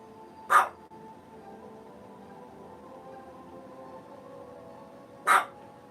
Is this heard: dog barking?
yes